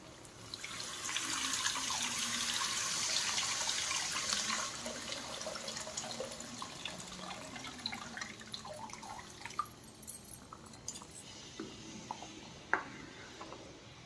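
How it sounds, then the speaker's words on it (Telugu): Tamarind extract being poured into a pot of ginger rasam, a soft continuous trickle of liquid that fades into faint drips and small splashes, close and quiet. "ఇప్పుడు మనం చింతపండు మొగ్గ యాడ్ చేసుకుందాం."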